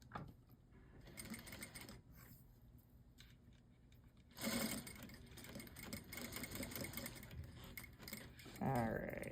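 A sewing machine bastes bias tape onto a fabric pocket flap, its steady mechanical stitching running in bursts with a louder stretch in the second half, while a person talks over it.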